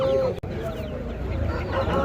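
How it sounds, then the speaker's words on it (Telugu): A big parrot-type rooster offered for sale at the Mydukur Saturday market gives short fowl calls amid busy market noise and nearby voices. "ప్యారెట్ బిగ్ పుంజు వచ్చేసి సేల్కి అయితే ఉంది"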